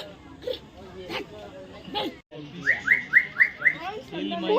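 Small birds chirp at Assam State Zoo in Guwahati, a quick run of about six bright, evenly spaced tweets following scattered calls, heard over a steady murmur of visitors talking in the background.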